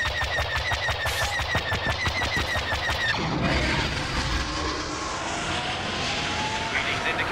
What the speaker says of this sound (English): Rebels have called in a Y-Wing attack.